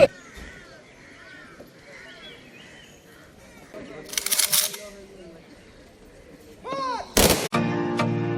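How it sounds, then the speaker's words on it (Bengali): A firing party shoots blank rounds at a state funeral for a pilot: two sharp, loud volleys crack out a few seconds apart, with birds chirping and faint murmuring in the background. "ফায়ারিং পার্টি কর্তৃক তিরিশ রাউন্ড ফাঁকা গুলি"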